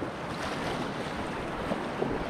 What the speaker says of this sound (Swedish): Ja, och så lite vatten in i båten då.